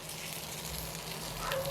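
Prawns fry in a hot pan with onions, a steady close sizzle and crackle of oil that continues evenly, with no talking over it.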